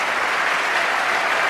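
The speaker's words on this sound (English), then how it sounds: "with the applause continuing, I'll say good night from the Queen Elizabeth Hall" Sustained audience applause at the Queen Elizabeth Hall after Rossini's opera Ermione, dense steady clapping from a large crowd, loud and even throughout.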